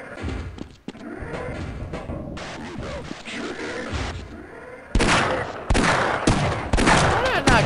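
Gunfire in the Half-Life mod Times of Troubles, bursts of shots and thuds under game noise and a voice, then louder dense rapid firing toward the end.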